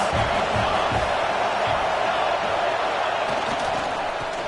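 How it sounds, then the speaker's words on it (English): Sustained, dense roar of a large stadium crowd at a Nebraska vs. Penn State college football game. The broad noise holds steady and loud throughout with no break. "This crowd trying to make life miserable for this offense."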